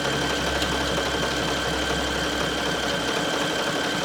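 Sewing machine running steadily as it stitches a cardigan band using a triple stretch stitch at length 3.5, a continuous close mechanical hum that stops shortly after three seconds.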